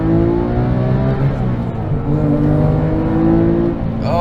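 Porsche 911 997 GT3 RS accelerating hard on back roads, a loud continuous engine howl heard from inside the car with rising pitch as revs climb, ending in a shift.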